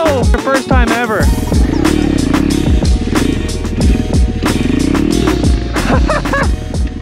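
An Apollo pit bike engine revs hard during a first wheelie attempt, its pitch climbing and falling in two rising surges over a steady close-up motor drone.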